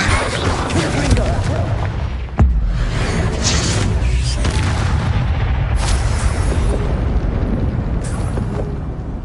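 Confringo fire spell blasts in Hogwarts Legacy, loud booming explosions over a continuous rumbling battle din, with one sharp burst early and spoken voices under the noise.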